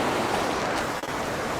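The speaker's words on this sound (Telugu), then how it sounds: "ఇలా వాటర్ పక్కన కూర్చొని నిశ్శబ్దంగా ఈ సౌండ్ వింటామే" River water rushing near Kasol in the Himalayan hills, a dense, continuous roar close to the microphone with a brief dip near the middle and no talking.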